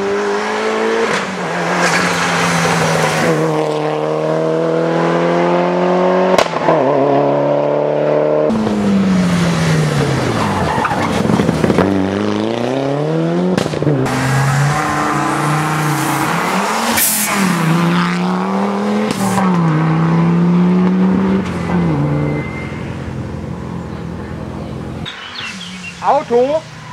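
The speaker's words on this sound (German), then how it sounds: "Auto." Rally cars at the 2012 ADAC Rallye Saar Ost scream through their gears, engines revving hard and rising and falling in pitch as they pass close by, loud and continuous for the whole stretch.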